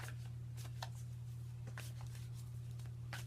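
Tarot cards shuffled for a reading, producing soft, scattered riffling flicks at irregular intervals over a low, steady electrical hum. The sound is faint and close, and no one speaks.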